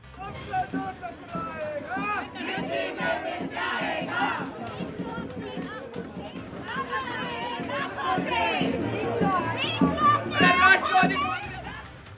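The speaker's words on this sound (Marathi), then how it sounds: "राष्ट्रवादी प्रदेश कार्यालयाबाहेर कार्यकर्त्यांनी एकत्र जमून जल्लोष केल्याचं पाहायला मिळालंय" NCP party workers celebrate outside the party's state office after an election win, a crowd of voices shouting, chanting and cheering in rising waves, with loud individual cries over the general din.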